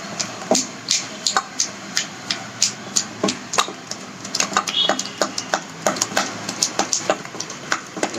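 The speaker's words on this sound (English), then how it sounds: "I've taken 1 teaspoon of coffee and I am mixing it nicely" A teaspoon stirs coffee in a cup for a chocolate coffee cake, with steady, rhythmic clinks of metal against the cup that are close and clear, about two per second, alone.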